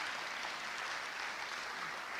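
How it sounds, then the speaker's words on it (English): Steady applause from the audience at a town hall evening, dense and even throughout without pause. "So one more time, a round of applause for all of us."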